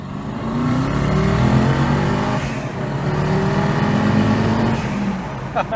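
A Ford Focus fitted with a V8 engine revs hard and accelerates through gears, a loud throaty roar rising and dipping across each shift, heard close from inside the car with the window down.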